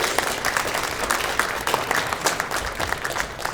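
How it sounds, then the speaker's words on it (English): An audience at a holiday luncheon applauds steadily, many hands clapping in a dense, even patter that continues throughout. "Let's give a round of applause to our folks who are doing the lunch for us today"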